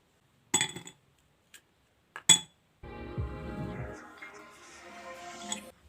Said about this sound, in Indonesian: Siapkan gelas, lalu masukkan es batu ke dalamnya.